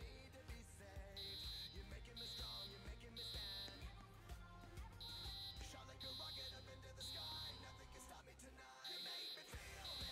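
Fire alarm at a bar and grill sounds as a repeating series of short, steady electronic beeps with a regular on-off rhythm, heard faint and distant beneath background noise and muffled voices.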